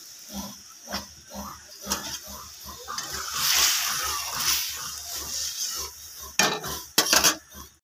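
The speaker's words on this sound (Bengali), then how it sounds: "দেখো ডালটা ফুটছে" Moong dal bubbling in a pan on a gas stove while a ladle stirs it, giving irregular soft bubbling pops and scraping clinks that come and go close by.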